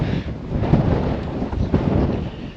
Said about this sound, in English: it's windy up here.